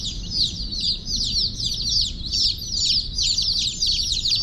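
Baby chicks in a brooder keep up a dense, continuous chorus of high peeping, close by and loud over a low background rumble.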